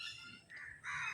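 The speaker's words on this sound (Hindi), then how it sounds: "और पक्षी भी अभी चहचहा रहे हैं थोड़े से।" Birds calling from a rooftop in the morning, with several bright, crow-like caws and chirps rising and falling across the moment over a faint background hum, moderately close and steady.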